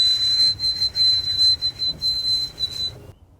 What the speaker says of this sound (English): As we sit and listen, we can hear the white-throated sparrows whistling.